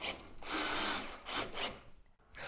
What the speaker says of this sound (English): And now I'll drill up through the bin from below and I'll drive some screws.